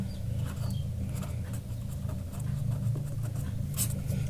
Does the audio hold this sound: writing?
yes